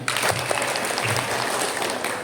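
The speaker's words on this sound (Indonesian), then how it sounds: "Tepuk tangan aja semuanya." A crowd applauds at a religious gathering, with dense, continuous clapping at an even level throughout and no pauses, filling the room.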